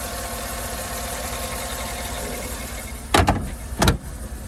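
The 6.2 liter Vortec V8 of a 2013 Cadillac Escalade Platinum idles with a steady, even hum, interrupted near the end by two brief loud thumps.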